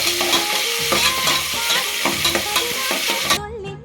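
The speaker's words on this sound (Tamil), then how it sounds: "பூண்டு போட்டுக்கலாம், பச்சை மிளகாய் போட்டுக்கலாம், கருவேப்பிலை போட்டுக்கலாம், அதுக்கப்புறம் வெங்காயம் போட்டுக்கணும். கொஞ்சம் நல்லா வதங்கணும்." Onions with garlic, green chilli and curry leaves sauté for a mutton gravy, crackling loudly as they are stirred in the pan, over music that cuts off near the end.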